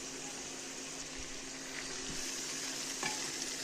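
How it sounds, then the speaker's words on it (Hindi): Beans fry in a pan in a Kashmiri home kitchen, making a faint, steady hiss with a few soft knocks of stirring. "तो बीन्स भी फ्राई हो रहे हैं"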